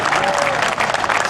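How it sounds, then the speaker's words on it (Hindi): An audience at a poetry recital during a festival claps loudly and densely for a brief burst, with faint voices mixed into the applause. "उससे ज्यादा तालियां चाहिए मुझे"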